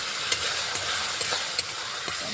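A spice paste of cumin, ginger, dry chili powder and turmeric, with chopped tomato added, sizzles in a pan as a steady, close hiss, broken by a few light stirring clicks.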